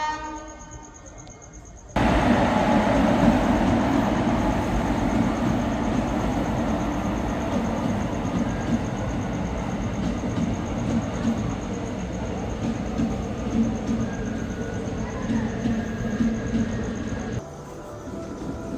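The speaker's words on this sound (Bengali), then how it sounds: "ট্রেন আসছে একটা, আজকে কী বার, লোকাল ট্রেন" A local train approaches at night, its loud, steady rumble of rail cars rolling continuously for most of the stretch after a sudden onset, with a faint horn-like tone above, then dropping away near the end.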